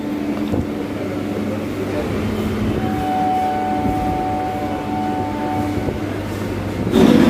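A local passenger train on the Sealdah to BBD Bag line hums and rumbles nearby with steady droning tones and faint rail clatter, a louder burst near the end.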